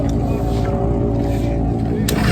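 An old school drag bike on a cleanup pass down the strip, its engine a loud, steady drone with dense low harmonics for the whole stretch and no break.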